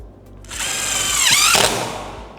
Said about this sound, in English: We're just gonna drill it in